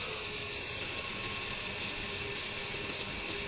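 An APR AP127+ impact wrench runs steadily at its lowest speed setting, a continuous even motor whine and hum held for the whole stretch without pauses or voices.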